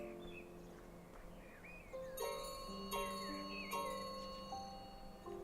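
Three bells mounted on a wall in Mr. Bunting's Modest Adventure ring in turn, each a bright tinkling strike with a lingering metallic tone, spaced about a second apart over a quiet background with faint chirps.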